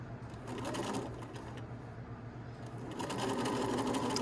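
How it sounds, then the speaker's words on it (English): A sewing machine stitches steadily through a sleeve band, its motor humming in a fast, even rhythm of needle strokes, close and moderately loud. "You have to sew this bottom layer and make sure the top's not getting sewn down"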